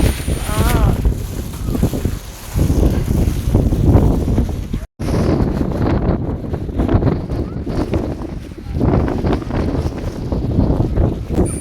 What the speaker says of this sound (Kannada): ಇಲ್ಲಿ ತುಂಬ ಗಾಳಿ ಬರ್ತಾ ಇತ್ತು